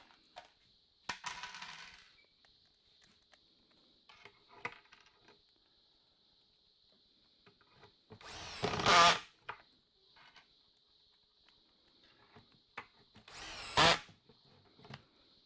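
A power drill drives screws into a kitchen cupboard drawer in two loud, brief whirring bursts, separated by quiet handling clicks and small knocks.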